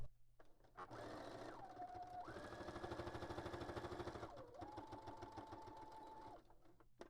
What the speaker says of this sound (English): I'm going to do it just straight stitch.